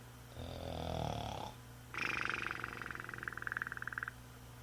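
A storyteller's voice imitates snoring: a deep, rumbling inhale followed by a longer, fluttering, purring exhale. Both are close and quiet against a soft background.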